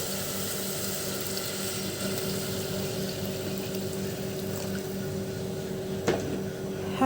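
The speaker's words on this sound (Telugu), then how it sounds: "ఇప్పుడు నేను హాట్ వాటర్ వేసేస్తుండా." Hot water poured into a pressure cooker pot of green peas curry, a steady rushing flow that runs unbroken at close range over a low background hum.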